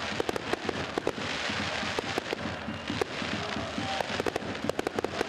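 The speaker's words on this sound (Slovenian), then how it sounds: "domači navijači so v južnoameriškem ali silvestrskem slogu poskrbeli tudi za pravi, več kot 5-minutni ognjemet" Fireworks set off by home fans at a football match in a New Year's Eve style display, a dense run of sharp cracks and bangs bursting irregularly over a steady crackling roar of the crowd and smoke-filled stadium air.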